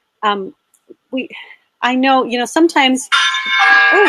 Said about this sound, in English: that's my alarm saying it's bedtime